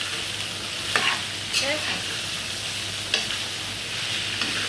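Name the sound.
stirring beetroot in a pan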